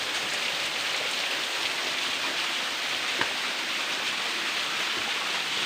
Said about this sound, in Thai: มีน้ำตกแล้วครับ